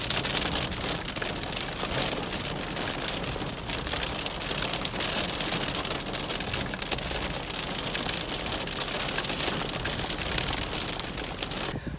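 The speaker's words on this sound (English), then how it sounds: "got overwhelmed by dust and now heavy rain and severe wind gusts right now" Heavy monsoon rain pounds steadily and loudly on a vehicle during a severe desert storm near Barstow in the Mojave Desert, a dense continuous wash of drops with gusty wind rocking the car.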